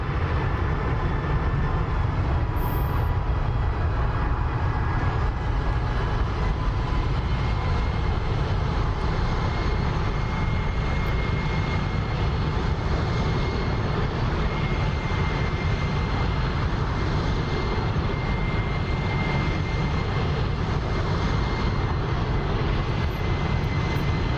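Engines of a B-2 Spirit bomber with flaps down on a landing approach in the DCS flight simulator roar steadily, a loud continuous jet drone with a high whine that barely changes.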